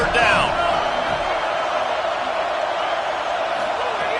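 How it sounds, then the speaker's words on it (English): A football stadium crowd roars on a third down, a dense continuous wall of cheering and noise that stays loud and steady throughout, with a brief shout near the start. "Decibels rising as the crowd gets behind this defense on 3rd down."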